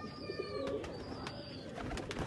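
Rampuri pigeons coo softly and repeatedly nearby, their low, throaty calls rising over a quiet background hum.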